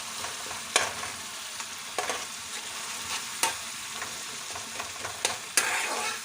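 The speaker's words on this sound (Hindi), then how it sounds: "अब इसे अच्छे से भून लेते हैं।" Spice masala for egg curry frying in oil, with a steady sizzle and several sharp clinks and scrapes from a spoon stirring at irregular intervals, close and fairly loud, with no talking.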